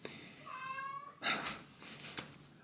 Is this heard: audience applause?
no